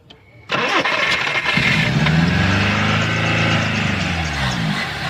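A Nissan Sentra B12 boxtype car with a suspected carburetor or fuel problem cranks briefly, then catches and starts, with the engine revving up and settling into a loud, close, steady run.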